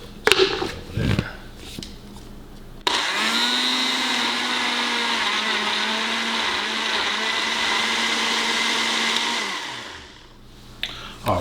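After a few brief knocks, an electric blender roars loudly and steadily for about seven seconds while pulsing cucumbers for juice, then spins down and stops.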